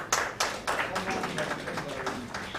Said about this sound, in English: Ladies and gentlemen, please clap for these people.